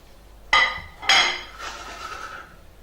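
Beef kofta meatballs drop into a pan of hot tomato passata sauce, two sharp metallic clinks of a utensil on the pan followed by a softer bubbling hiss, close and alone.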